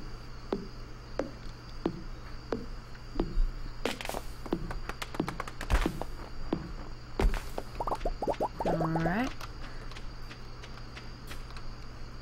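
Axe chops on a tree in Stardew Valley, a series of short game thunks and taps spaced irregularly, joined by sharper cracks and a brief rising chirp-like effect near the end, over a low steady hum.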